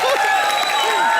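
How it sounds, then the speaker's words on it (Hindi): Studio audience applause on a comedy television show, brief steady clapping with light cheering at moderate volume. "चलिए एक बार जोरदार तालियां हो जाए रघु, पूजा और"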